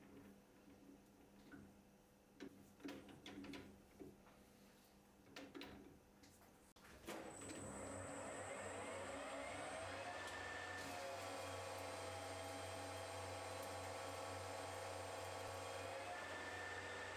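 A Colchester lathe with a 3 horsepower motor taking a heavy, aggressive cut: a few sharp metallic knocks give way to a sustained loud whirring drone with a high whine.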